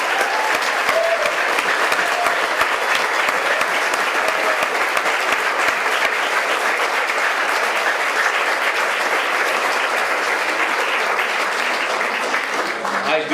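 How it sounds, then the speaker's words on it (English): Steady, dense audience applause at a town hall gathering, loud and sustained for over thirteen seconds without a break, many hands clapping together close by. "Now we can give them a big round of applause for the record."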